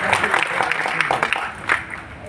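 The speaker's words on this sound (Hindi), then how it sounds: "ये 2-4-5 तालियां क्यों बज रही हैं?" A handful of people clapping unevenly nearby, a few scattered claps that trail off rather than full applause.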